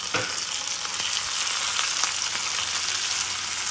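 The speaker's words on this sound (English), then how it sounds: "And I'm going to fry this until it's cooked properly." Chopped tomato and curry leaves frying steadily in a pan for a steamed fish wrap, a continuous dense sizzle with faint crackles, close and even throughout, with no talking.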